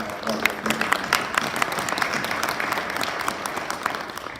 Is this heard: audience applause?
yes